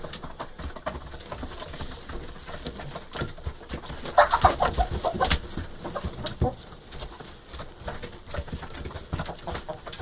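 Chickens cluck and murmur close by amid scratching and pattering, with a louder burst of clucking in the middle.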